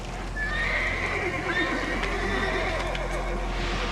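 Horses whinny, high shrill neighs rising and falling over a low rumble and soft hoof movement, with a voice faintly underneath.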